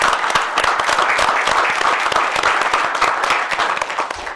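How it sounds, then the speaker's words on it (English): Audience applause at a county board of supervisors meeting, a loud, sustained burst of many hands clapping with sharp, dense claps throughout. "A round of applause for Clyde as he walks out the door."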